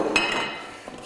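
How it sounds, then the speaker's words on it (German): A Thermomix Varoma steamer basket holding foil-wrapped cod fillet and vegetable parcels is lifted off, with a few close metallic clinks and clatters of dishes, a sharp knock early and a fainter one near the end. "Und als erstes nehmen wir mal den gesamten Varoma hier runter."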